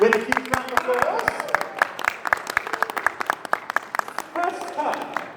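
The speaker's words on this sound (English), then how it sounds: "With a huge round of applause." Convention audience at a guest-of-honor panel clapping to welcome the guests, scattered sharp claps over excited cheers and voices, with the clapping thinning out toward the end.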